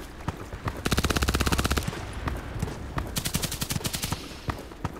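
Kedr submachine gun fire in the shooter game Contract Wars, with rapid full-auto bursts, one long stream and several shorter volleys, plus scattered single shots, loud and close, with no speech.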